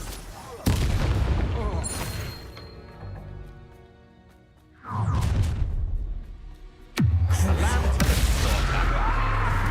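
Confringo explosion spell blasting in Hogwarts Legacy, with sharp booming bursts at the start, middle and near the end over a rumbling game soundscape, and voices murmuring underneath.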